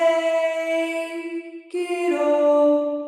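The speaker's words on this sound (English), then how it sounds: "So the Abbey Road sounds like this." A vocal sung through an Abbey Road plate reverb, sustained tones with a shimmering plate tail, with a shift in pitch partway through, close and clear with no talking.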